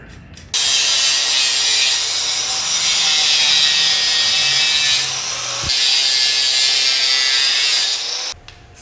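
Saw cutting off parts during a klunker bicycle build from a parts bin, a steady rasping stroke that runs near and loud for several seconds, pausing briefly midway before resuming.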